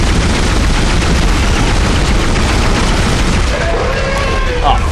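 Dense, loud gunfire and booming impacts fill a Dead Space fight against an enemy, a continuous barrage of shots heard up close alongside a man's speech.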